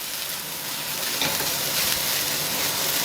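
Baby lady fingers (okra) stir-fried in a hot pan, with a steady dense sizzle throughout and light stirring scrapes, close and fairly loud, no talking.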